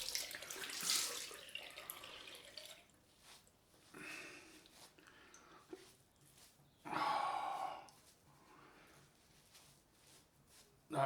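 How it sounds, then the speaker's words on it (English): Cold tap water runs onto a cloth at a bathroom sink during a wet shave, in several short bursts of splashing flow separated by quieter pauses. "Get some cold water on the cloth and wipe it off."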